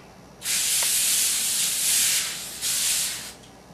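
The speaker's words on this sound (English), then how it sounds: "spray your large piece of foil with cooking spray" Cooking spray hisses onto a large piece of foil in two bursts, a long close spray followed by a brief pause and a shorter second spray.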